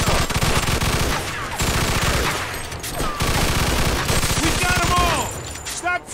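Sustained automatic gunfire sprays down from enemies in a window in Mafia 2, loud, dense and close, with rapid rattling bursts that briefly pause before resuming.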